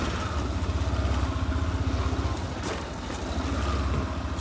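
A motorcycle engine pulls away from a stop, its close, steady, pulsing throb keeping an even rhythm as it works up through first and second gear.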